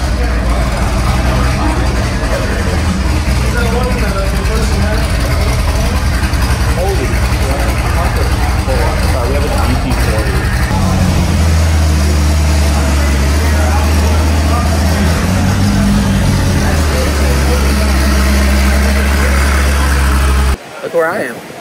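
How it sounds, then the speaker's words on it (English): A 1966 Ford GT40 Le Mans race car engine rumbles deep and loud at the McPherson College Car Show, a heavy low drone under people talking, stopping abruptly near the end. "That sounds like a GT40."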